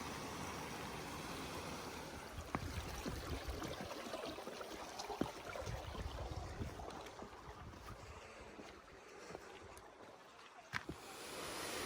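A steady, broad rushing roar of a waterfall at the Fairy Pools in Scotland, with wind gusting against the microphone and occasional faint clicks.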